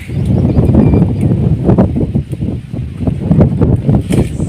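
Wind blowing in a forest buffets the microphone in loud, uneven low gusts that continue throughout.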